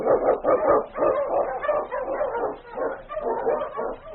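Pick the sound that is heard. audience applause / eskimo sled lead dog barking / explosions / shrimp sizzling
eskimo sled lead dog barking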